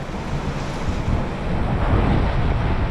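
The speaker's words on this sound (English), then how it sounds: "So yeah, pretty windy day." Strong wind roars and buffets the microphone continuously on Bocage Street in Macau, a loud, dense rush with no pauses.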